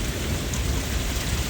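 Heavy rain pours down in a Cleveland thunderstorm, a steady, dense hiss of drops and a low rumble filling the whole short stretch with no voices.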